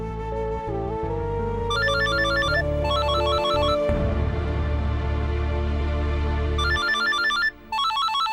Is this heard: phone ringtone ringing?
yes